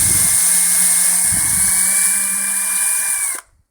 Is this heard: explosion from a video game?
no